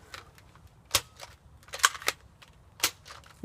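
Knock-off Nerf Maverick toy dart blaster from Five Below firing foam darts, heard as a handful of sharp, close snapping pops spaced irregularly over quiet room noise, with no talking.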